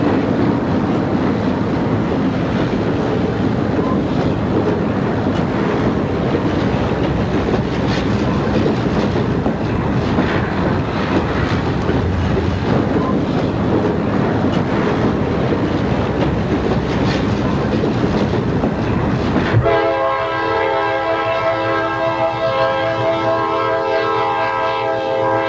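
A diesel freight train rumbles and clatters past loudly at about 50 miles an hour near Owego, New York, wheels clacking over rails, then a long multi-tone horn blares near the end.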